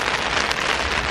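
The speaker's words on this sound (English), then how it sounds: "It's raining a lot." Heavy rain pouring down in Venice, a dense, steady hiss of drops striking surfaces close by, with no voices.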